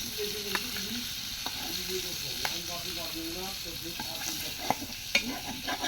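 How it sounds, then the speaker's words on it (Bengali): Mirka fish frying in a pan makes a fairly quiet, steady sizzle while a spatula stirs it, with occasional clinks and scrapes against the pan. "তো মাছটা ভালোভাবে ভাজা হয়ে গেছে,"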